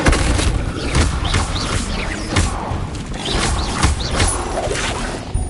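Incendio fire spell cast in the Hogwarts Legacy video game, a series of sharp bursts and booming magical impacts with crackling, whooshing tails, loud and repeated over a busy game soundscape.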